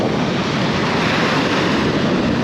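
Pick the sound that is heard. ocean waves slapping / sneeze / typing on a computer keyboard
ocean waves slapping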